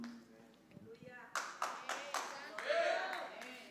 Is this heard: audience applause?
yes